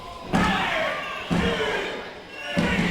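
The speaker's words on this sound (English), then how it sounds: "Voodoo could do his swanton bomb" Three heavy slams on a wrestling ring canvas, each a sharp booming impact followed by a reverberating decay, one of them from a swanton bomb at a live Wrestleforce show in Tadley, with voices in the hall around them.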